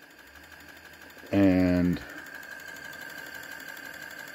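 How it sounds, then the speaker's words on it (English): A small 1930s Philip Harris demonstration DC motor running at 3 volts gives a brief, loud buzzing whir, then settles into a faint steady hum while someone speaks nearby. "this little DC demonstrate motor. I've got down to 3 volts"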